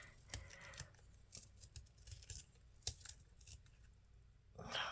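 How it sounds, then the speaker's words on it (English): Pencil sharpened in a Faber-Castell hand sharpener, a run of dry scraping, grinding strokes close up, uneven and repeated, with a louder rasp near the end. "But, I mean, it's sharpening the pencil."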